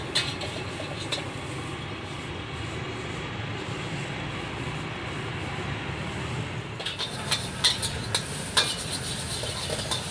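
Fried rice stirred and fried in a new non-stick wok: a continuous hiss of sizzling with a spatula scraping underneath, joined near the end by several sharp metallic clinks against the pan.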